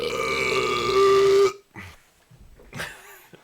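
A man lets out a long, loud, rasping burp at close range, followed by a brief pause and a few softer throat sounds and breaths.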